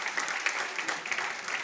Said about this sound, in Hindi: उसके लिए भी आप तालियां बजा दें।